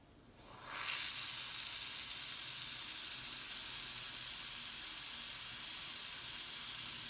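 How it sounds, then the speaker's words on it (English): A loud, steady sizzling hiss from a torch flame melting silver for sand casting, swelling up within the first second and then holding constant, close and unbroken. "The louder the sizzling noise, the hotter, because I'm adding more air."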